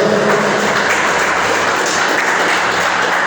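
A church congregation applauds at a service, loud dense clapping that continues steadily throughout without a break.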